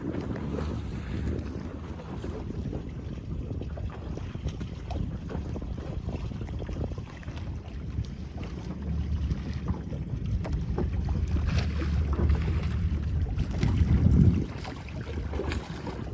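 A small homebuilt wooden sailboat, the Viola 14, sailing in about 5 to 6 knots of wind, heard as steady wind buffeting and low water wash around the hull, with a gust swelling briefly near the end.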